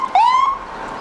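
A Denton Rural Fire District fire engine sounds its siren in a small-town Montana centennial parade, a brief, loud rising wail that climbs quickly and then holds a steady tone before fading.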